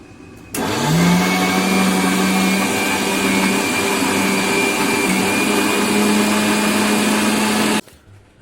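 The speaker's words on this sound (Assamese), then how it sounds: "এয়া মই মিক্সাৰ গ্ৰাইণ্ডাৰত কচুৰ টুকুৰাবিলাক দি দিছোঁ।" A mixer grinder grinding taro pieces with chillies starts up and runs with a loud, steady whirring whine for about seven seconds, then cuts off abruptly.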